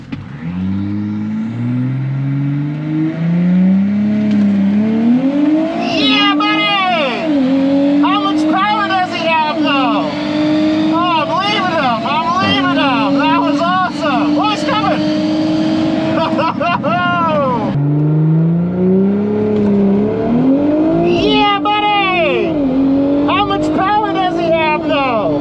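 An Audi B9 S4 with a Stage 3 tune on 93 octane drag races a 770 hp Dodge Hellcat. A loud engine wails upward through repeated gear changes and surges again near the end, with excited voices over it.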